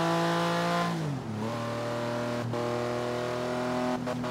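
A Porsche engine in Forza Horizon 3 drones steadily while struggling to accelerate, holding a sustained harmonic whine that dips briefly as a gear shifts, then resumes at a constant strained pitch with no talk.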